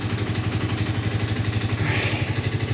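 Engine of a three-wheeler motorcycle conversion running on a test drive, a fairly quiet, steady pulsing beat with a light mechanical clatter on top.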